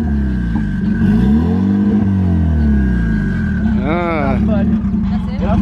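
A turbocharged Honda Civic engine held at its rev limiter, a loud, steady droning rumble with a pulsing bounce and wavering pitch, close by, while people talk over it.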